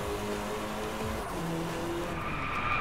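A car drifting in DriveClub with a steady engine roar, tire squeal rising in long, drawn-out tones as the rear slides, loud and continuous without talk.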